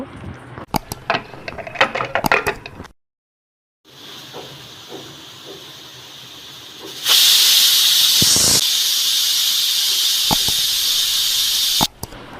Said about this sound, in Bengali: এরপর ঢাকনা খুলে আলু দিয়ে আরও দুইটা সিটি দিয়ে নেব আলু সিদ্ধ হওয়ার জন্য